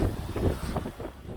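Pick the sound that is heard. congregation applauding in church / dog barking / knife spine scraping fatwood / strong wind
strong wind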